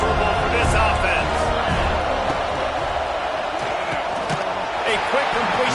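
A stadium crowd at a football game creates a steady, loud, dense roar that holds without a break from start to finish.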